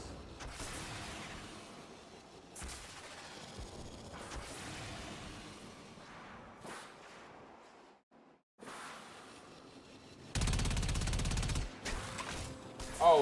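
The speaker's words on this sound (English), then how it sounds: "I just hear like explosions." Explosions and gunfire in the Warframe video game, a series of muffled blasts and rumbling bursts at moderate distance, broken by a short quiet gap before a louder, heavier blast near the end.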